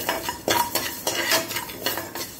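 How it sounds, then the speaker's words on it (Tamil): A spoon stirs moong dal roasting dry in a pan, giving a rhythmic scraping and rustling of lentils against metal, repeated strokes about every quarter second, close and alone. "பயத்தம்பருப்பை வறுத்து எடுத்துக்கிட்டு லேசாக வறுத்தா போதும்"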